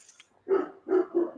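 A one-year-old dog barks three times in close succession, loud and near, with faint background sounds before the first bark.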